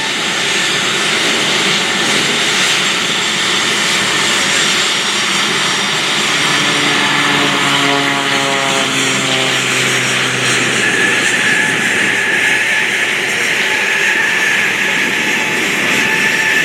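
Engines of the Northern Stars Aerobatic Team planes roar loudly and continuously at the 2023 Westmoreland County Airshow, the pitch sliding downward as they sweep past overhead.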